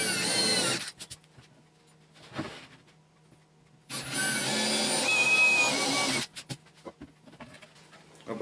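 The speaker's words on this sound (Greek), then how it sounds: "Παίρνουμε τώρα τρυπάνι ξύλου, όχι σιδήρου, οπωσδήποτε, για να μην μας κάνει το ξέφτη, και τρυπάμε προσεκτικά." A wood drill bit bores into a piece of wood for a firewood carrier, giving two loud, sustained grinding bursts with a quiet pause and faint clicks between them.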